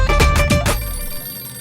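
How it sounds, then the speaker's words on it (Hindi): A telephone bell rings in short rapid bursts for well under a second, then its tone lingers and fades away in a quiet room with no voices. "देख आ गया तेरे मामा का फोन।"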